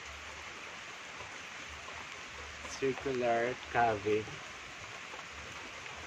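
Steady rain falls near a circular cave at a resort in San Pablo City, a constant wash of hiss throughout while someone speaks briefly over it.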